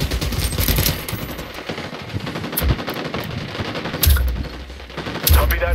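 Bursts of automatic rifle and machine-gun fire during an ambush in Ghost Recon Wildlands, loud rapid cracks in several clusters with heavier bursts near the end, with faint voices mixed underneath.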